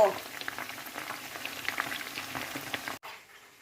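Chicken frying in hot oil, a dense continuous sizzle and crackle heard up close, then cutting off abruptly near the end.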